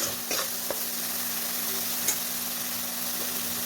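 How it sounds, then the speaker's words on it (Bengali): A paste of cumin, coriander, chili and turmeric frying in a pan, a soft even sizzle with a few light utensil taps, heard alone without speech. "এটাকে একটু কষাবো কিছুক্ষণের জন্য।"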